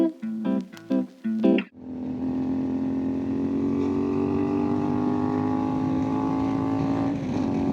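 A CFMOTO 450MT motorcycle engine revs in a few short sharp bursts, then settles into a steady droning pull while riding, loud and close with wind noise.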